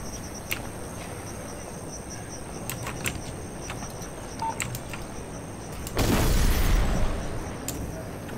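Detonator-triggered explosion in the Hitman: Blood Money video game, a sudden broad rumbling blast about two-thirds through, rising over a steady game ambience with chirping insects and scattered faint clicks.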